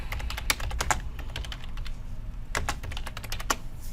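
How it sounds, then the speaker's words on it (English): Fingers type on a computer keyboard while text is entered in CAD software, giving close, crisp key clicks in quick irregular bursts with short pauses between runs. "just start typing it out"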